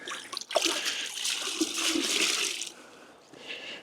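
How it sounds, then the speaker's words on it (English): Water sprays steadily over a car during a winter maintenance wash, a close, hissing rinse with splashing that runs for a few seconds before easing off. "So I'll give this a thorough rinse"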